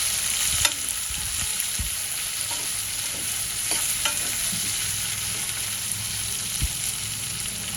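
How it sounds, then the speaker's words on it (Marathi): Sliced onions sautéing in a pan for zunka give off a steady close sizzle, broken by intermittent clicks and scrapes of a spatula stirring against the pan, with no talking. "कांदे ना असे उभे चिरून घ्यायचे, झुणक्यामध्ये फार छान लागतं. आणि आपण छान परतून घेऊया."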